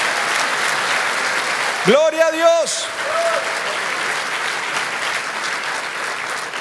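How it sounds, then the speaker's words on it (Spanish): Applause from a church congregation fills the sanctuary as a constant broadband wash of clapping under a pastor's loud exclamation, the clapping carrying on steadily after he stops. "Den un aplauso fuerte a Cristo Jesús"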